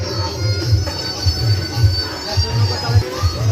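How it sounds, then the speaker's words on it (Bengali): A train runs along a railway line, its wheels squealing in a high whine over a rhythmic low rumble and clatter, loud and close. "লাইনে এখন ট্রেন আসতেছে আপনাদের সকলকে এখন দেখাবো দেখতে পারেন এখন এই যে ট্রেন আসতেছে"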